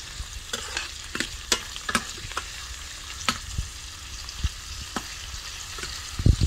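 A pot of jackfruit stew with onions, shallots and dried fish being stirred by hand, a spoon scraping and clacking against the pot in irregular close knocks over a soft steady sizzle, with no talking.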